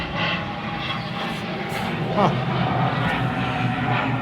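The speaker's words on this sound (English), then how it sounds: "this plane's going overhead" A passing airplane overhead produces a continuous, low, broad rumble that swells slightly midway, mixed with a voice in the background.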